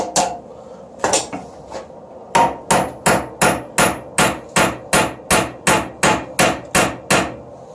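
Hammer blows forging the head of a hand-made nail, a few scattered strikes and then a steady run of about fourteen loud, evenly spaced ringing metallic hits, close up and alone.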